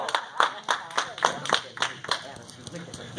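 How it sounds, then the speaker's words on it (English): A small audience claps for a young girl after she answers a history question, scattered close claps in a loose rhythm with voices talking over them. "Give her a round of applause."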